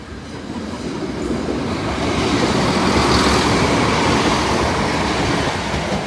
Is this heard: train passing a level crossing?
yes